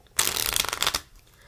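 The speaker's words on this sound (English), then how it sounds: "So let's say these get shuffled." A deck of playing cards riffle-shuffled by hand during a card trick tutorial, one quick burst of crisp fluttering lasting under a second, close up with no talk.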